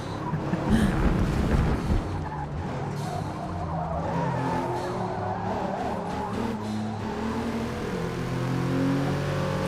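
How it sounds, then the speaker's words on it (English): Race cars in Forza Motorsport rev hard and skid with squealing tires, a loud continuous roar of engines and gear changes across the whole stretch with no talking. "The engine sounds are really, really good."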